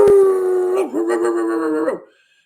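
A dog howls loudly and close by in one sustained, wavering cry that dips briefly midway, then resumes before cutting off into silence.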